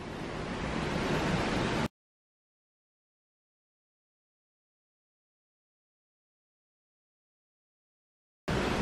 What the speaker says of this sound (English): the gusts are definitely picking up since like the 10 minutes I've been standing here